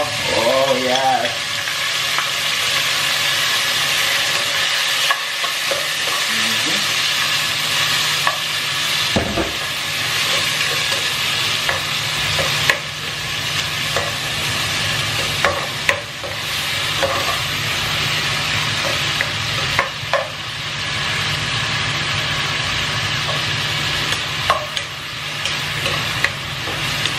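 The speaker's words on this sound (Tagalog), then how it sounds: "gigisa na natin itong hotdog" Hotdogs sauté in hot oil in a pan, giving off a steady, close sizzle with occasional scraping and stirring clatter.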